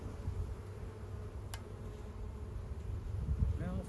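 Honey bees buzzing around hives after a swarm, a low continuous hum at modest level with one brief tick partway through.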